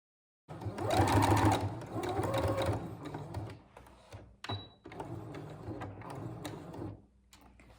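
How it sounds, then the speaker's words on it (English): A sewing machine stitches bias binding onto fabric bunting, running in a loud steady whir close up, pausing briefly midway and then resuming at a slightly lower level. "I'm just going to continue folding the bias binding and going to sew all the way to the end"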